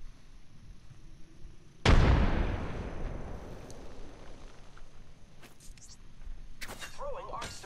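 A frag grenade detonates in a sci-fi shooter game with a single loud, sharp blast that rolls into a long decaying rumble, followed by faint clicks and game effect chirps.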